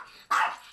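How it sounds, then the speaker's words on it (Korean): A confined, aggressive dog kept in a small pen gives a single sharp bark after a brief quiet moment, close and fairly loud. "짖으며 존재감 뽐내는 사랑이에게 인사를 건네보는데요."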